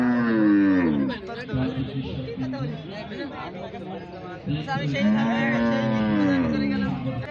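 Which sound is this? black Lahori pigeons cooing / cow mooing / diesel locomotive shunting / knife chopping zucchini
cow mooing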